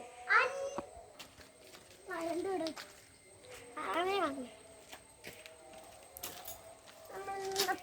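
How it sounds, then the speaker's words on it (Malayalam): A cat meows a few times in short, rising cries, with children's voices chattering nearby in between. "ഞങ്ങളുടെ പൂച്ച."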